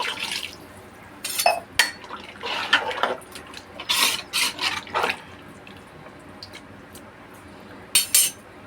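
A glass of water poured into a pot of chicken biryani, with short splashing pours and metallic clinks in separate bursts, close by and without talk.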